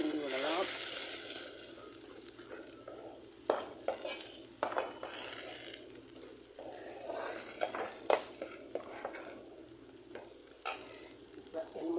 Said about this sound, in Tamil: அப்படியே கொஞ்சம் கிண்டி விடலாம்.